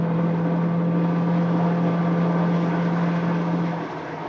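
A Ford Territory SUV with a CVT gearbox accelerating uphill, heard from inside as a steady, continuous tonal whine over a broad engine and road drone, holding even and fairly loud before easing slightly at the end.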